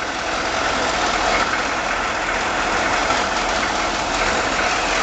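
An aging TransVan diesel engine idles with a steady, loud, even rumble and faint knocking clatter, unchanging from start to finish with no voices.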